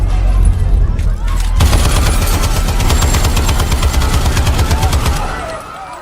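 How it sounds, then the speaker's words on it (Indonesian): Rapid bursts of gunfire fired blindly upward inside a film nightclub, loud, dense and continuous like automatic fire, with frightened crowd noise underneath as patrons scatter. "melepaskan tembakan secara membabi buta ke arah atas, membuat semua pengunjung ketakutan berhamburan keluar"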